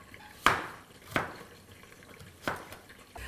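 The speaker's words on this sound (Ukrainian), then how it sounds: "я наріжу картоплю соломкою" A kitchen knife slices potatoes into thin strips on a board, making three sharp, separate cuts spaced about a second apart. The cuts are crisp and close against a quiet background, with no talking.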